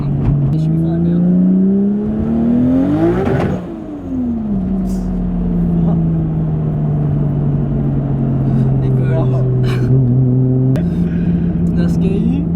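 An 800-horsepower 2JZ-swapped widebody Nissan Silvia accelerates hard, its engine note climbing steeply, dropping briefly at a gear change, then pulling loud and steady again, with people talking inside the cabin over the engine.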